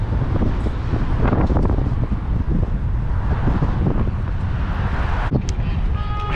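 Strong wind buffeting a microphone during outdoor riding, a steady roaring rumble with gusty low-end bursts that fill the whole stretch.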